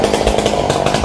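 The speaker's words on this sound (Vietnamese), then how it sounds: "Có bác tám của em Cường cưa mấy cây dừa này" A chainsaw cuts through coconut trees, its engine roaring steadily and loudly at close range throughout the short burst, with no voices.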